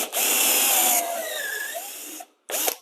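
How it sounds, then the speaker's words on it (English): A power drill spins a bit through a dowel jig in woodworking, a loud close whine that eases in pitch as it bites, stops briefly, then gives one short final burst. "use your drill"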